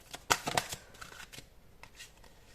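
Tarot cards are shuffled up close in a couple of quick papery riffling bursts, followed by softer flicks and slides of the cards in an otherwise quiet room.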